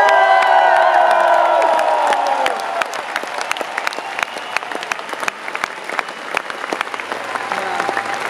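Concert crowd at Werchter applauding and cheering for the crew, loud at first as music fades out, then dense steady clapping with scattered whoops.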